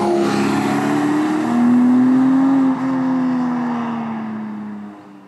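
Porsche 718 Cayman GTS 4.0 on a racetrack, its engine droning steadily and swelling as it accelerates, then easing off and fading at the end, heard alone without talk.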